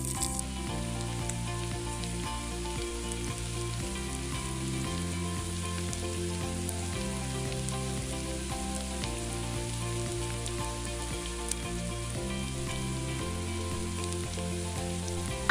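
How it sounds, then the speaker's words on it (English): Chopped onion sautés in a pan for mushroom soup, giving a steady, dense sizzle and crackle that runs the whole time at an even level, close by, with faint stirring underneath and no voices. "Add the chopped onion and sauté until it becomes translucent"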